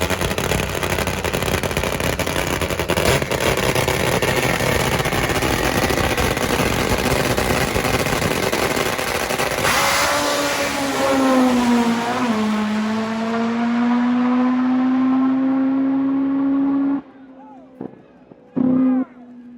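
A supercharged four-cylinder 1,500-horsepower nitro drag motorcycle roars loudly at full power, then its pitch drops and settles into a strong steady drone before cutting off abruptly with a couple of short bursts at the end.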